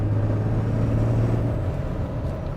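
Deep, steady diesel drone from a 2015 Cummins diesel truck with twin turbochargers and a DPF, a low rumbling hum holding close and loud, with a faint thin turbo whine riding above.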